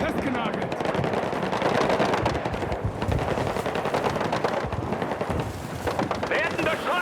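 Dense automatic gunfire and heavy shooting fill a Battlefield 6 firefight almost without a break, with sharp rattling bursts layered over rumbling blasts. Radio-style voices call out under the din.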